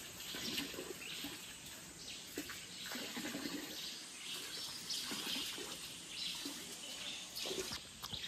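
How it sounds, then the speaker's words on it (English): Water trickles and drips from a small hole at a hot spring in Puerto Vallarta, a continuous bubbling splash with birds calling faintly in the background and no talk. "It's just this little hole of water that's dripping out,"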